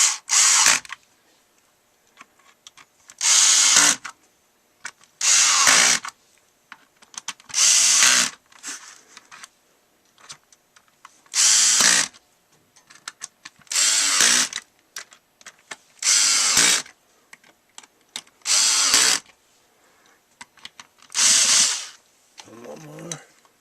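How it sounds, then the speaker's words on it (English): A power drill drives a screw during a battery upgrade on an old Black and Decker Handisaw. It runs in about ten loud, close bursts of whining motor separated by short pauses. "Screw it in there."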